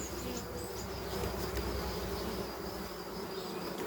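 A steady, dense buzzing of bees drones on without a break from a dying artificial swarm colony whose comb has been robbed, close and continuous, with faint higher whining insect tones and no voices.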